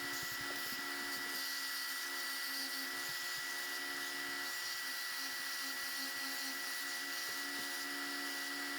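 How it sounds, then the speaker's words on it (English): A power tool, likely a router, bevels the face of a wooden frame piece in a shop, giving a steady high-pitched whine that runs unbroken for the whole stretch at fairly even loudness. "we're going to bevel one of the faces on these"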